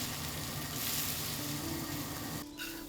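Pigeon meat stir-frying in a hot wok, blanched and cooked to about 80% done, a steady close sizzle that holds throughout and briefly dips near the end.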